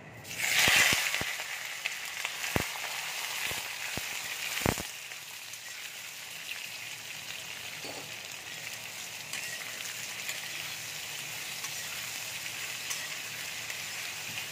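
Potatoes frying in oil in a pan with bay leaves and whole garam masala, a steady soft sizzle throughout, a few sharp clicks and a louder hiss early on, then settling into an even, fairly quiet crackle.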